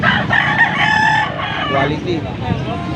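Yellow-legged gamecock crowing close by at a rooster market, a loud drawn-out cock-a-doodle-doo with clucks and background chatter around it.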